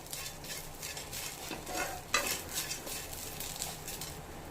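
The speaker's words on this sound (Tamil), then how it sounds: "இதையும் சேர்த்து நல்லா வதக்கிக்கணும்." Steady sizzling and frying of cumin seeds in a pan with stirring scrapes and a few utensil clinks, continuous and close, no voices.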